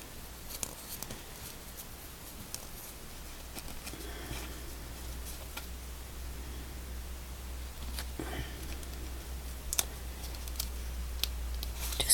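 Scissors snip material for a Christmas corn craft, giving faint, sparse clicks and cuts scattered over a quiet room with a low hum, and no one speaks.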